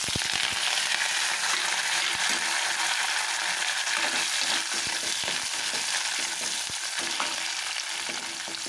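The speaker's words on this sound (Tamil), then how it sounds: "இப்போ இந்த வெங்காயத்தை போட்டுறேன் அதில்." Sliced onion frying in hot oil with asafoetida for tomato thokku, giving a loud, constant close sizzle with occasional stirring clicks throughout and no voices.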